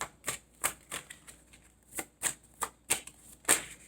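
Tarot cards being shuffled to draw another card, a series of about nine sharp papery riffles and flicks in an irregular rhythm, close and fairly quiet, with no talking.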